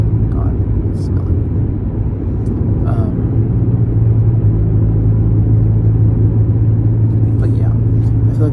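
A car drives through forest fire smoke, its steady low engine and road rumble droning near and loud throughout, with a person talking quietly over it at moments.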